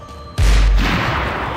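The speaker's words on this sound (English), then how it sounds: "Shotgun out of nowhere." Shotgun blast in the video game Max Payne 3 multiplayer, a single loud close boom after a brief quiet moment, followed by a long decaying rumble and noisy tail.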